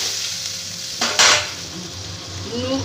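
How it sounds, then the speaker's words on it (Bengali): A small tomato frying in spiced oil in a pan, with a steady low sizzle, a sharp burst of hissing as it hits, and a few clinks of utensils, close up with no talk. "আমি একটা ছোট সাইজের টমেটো দিয়ে দিচ্ছি টমেটোটাকে একটু ভেজে নিয়ে"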